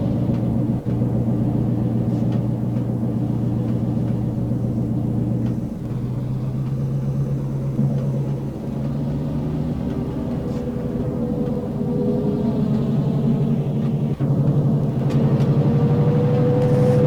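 A Texas & Pacific F7 diesel locomotive in the Trainz 2019 game idles and rumbles with a loud, steady low engine drone and a slight rise in pitch toward the end, with no talk over it.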